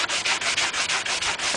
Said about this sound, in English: using the corner of the sanding sponge going kind of in circles